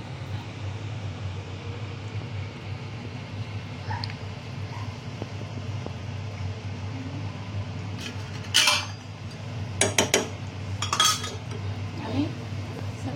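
Metal utensils scrape and clink against a pan while sheera prasad is stirred with dry fruits and cardamom powder, a steady low hum underneath and a few sharp clinks near the end.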